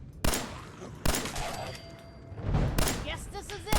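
In Fallout 4, a 10mm pistol fires about four sharp, spaced shots, each a loud crack with a short tail. Someone talks between the shots.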